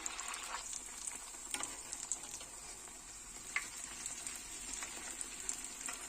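Rava (semolina) snack batter fries in hot oil with a soft, continuous sizzle and scattered small pops, heard faintly at moderate distance.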